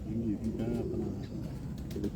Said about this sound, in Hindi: ये लंबी टांगों वाले और जो नील दुम्बे उनके क्रॉस में बने हुआ है कबूतर